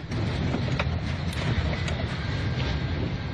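Strong wind roars continuously at an airport in Jeddah, Saudi Arabia, a loud broadband rumble with gusty buffeting, with no voices heard.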